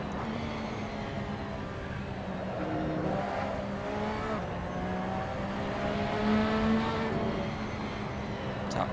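A Porsche 911 RSR racing engine in the driving game Assetto Corsa howls steadily at high revs, its pitch climbing through gears with brief shifts, loud and continuous throughout.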